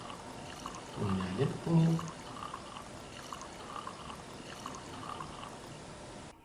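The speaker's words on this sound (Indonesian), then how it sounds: "Tuang minyaknya sampai pada penuh." Cooking oil pours into a small pan with a faint, soft continuous trickle, and a voice briefly speaks over it near the start.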